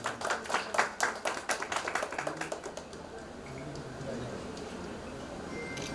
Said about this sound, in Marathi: आपण टाळ्या वाजवायला होता